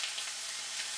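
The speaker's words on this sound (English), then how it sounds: "I'm going to add some soy sauce" Soy sauce hits a hot pan of ham fried rice with a steady, close, bright sizzle that holds evenly for about a second.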